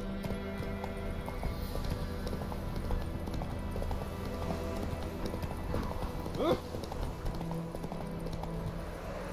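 Roach's hooves clopping in The Witcher 3: Wild Hunt, a close, brisk galloping rhythm over steady ambient music and wind, with a short whinny-like sound near the middle.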